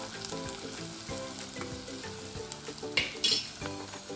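Chopped onion and green chillies for a simple chicken curry fry in a pan with a continuous close sizzle, broken by stirring scrapes and a few louder clatters of the spoon near the end.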